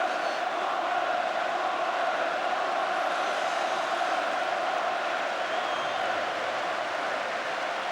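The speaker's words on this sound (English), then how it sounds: "They're applauding Watford for their parts in this cup final today" Everton supporters at the 1984 FA Cup Final against Watford, a vast stadium crowd applauding and roaring in a continuous dense wash of sound, steady and far-reaching with no distinct voices.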